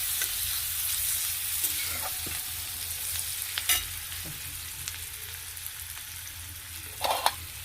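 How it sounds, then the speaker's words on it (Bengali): Chopped onion fries in a tadka for butter paneer, a steady close sizzle with occasional spatula scrapes and stirring clatters, louder near the end. "পেঁয়াজ, ছোট ছোট করে কুচিয়ে রেখেছি, তড়কাতে দিয়ে দেবো"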